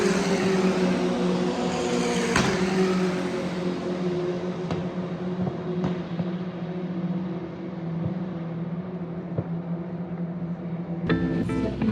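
Open-wheel race cars on the final lap of a Eurocup-3 race at Spa-Francorchamps, a sustained loud engine drone with shifting pitch as a chasing pack passes, heard from trackside.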